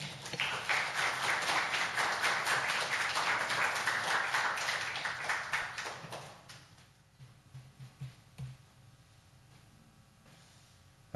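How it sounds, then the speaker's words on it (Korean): Audience applause welcoming a pastor to the stage at a Bible memorization camp: a dense, sustained burst of many hands clapping for about six seconds, then thinning into a few scattered claps before fading out. "뜨거운 박수로 환영해 주시기 바랍니다"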